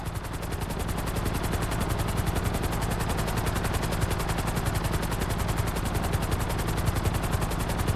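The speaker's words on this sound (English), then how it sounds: "They're bringing the chopper back around." Rapid machine-gun fire rattles nonstop over the heavy, pulsing chop of a helicopter in the GTA 5 video game, both loud and constant without a break.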